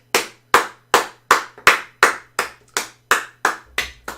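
Eleven sharp, loud hand claps at a steady, even pace, close by, each ringing briefly before the next.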